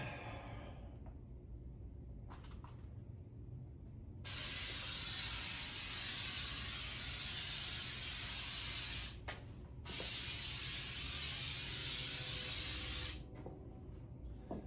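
Spray adhesive released as a very fine mist in two long, steady hissing bursts of about five and three seconds, loud and close, separated by a short pause, with quiet room tone before and after.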